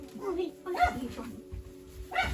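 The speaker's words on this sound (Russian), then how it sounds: "Собака." A dog at a rural home where visitors bring food to an elderly resident gives a few short barks or yips, brief bursts between pauses, under and alongside people talking.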